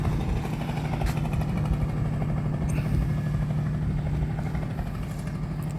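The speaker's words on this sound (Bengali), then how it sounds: "এই যে ট্রলার যাচ্ছে" Low, throbbing trawler engine chugging steadily and fairly close on Kaptai Lake, a continuous drone with faint rattles on top.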